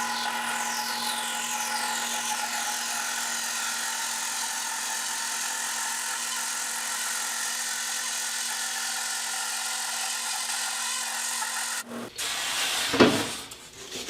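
A band saw with a heavy-duty Accu-Slice resawing setup slices a board for guitar backs and sides, using a blade coarser than 8 teeth per inch. It gives a steady, close whine for about twelve seconds, then cuts off with a short clatter.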